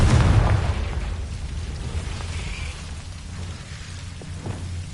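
Confringo explosion spell going off in a Harry Potter video game, a loud booming blast at the start that fades into a lingering rumble.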